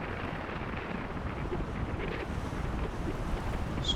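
Storm-driven waves surge and crash onto a Southampton beach near Chantry Island, a steady, loud broadband roar mixed with heavy wind buffeting the microphone, with no talking.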